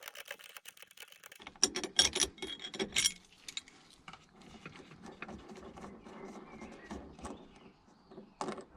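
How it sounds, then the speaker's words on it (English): A 16mm spanner working loose the top nut of a BMW E87 rear shock absorber while the shaft is held by a 6mm socket, close metallic ratcheting and clicking in short bursts, then lighter fiddling and tool noise. "we're going to use a 16mm spanner to undo the top nut there"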